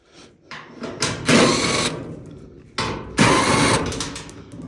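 Two bursts of a power screwdriver whirring screws out of the side panels of a Whirlpool dryer, each lasting about a second, close and loud, with brief metallic handling between them.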